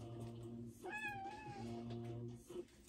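A house cat gives a single clear, drawn-out meow at close range, rising then falling, over a steady low electrical hum.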